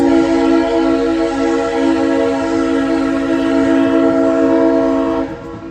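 A loud, sustained train horn blares steadily for several seconds, then cuts off near the end, with the rumble of a nearby train beneath it.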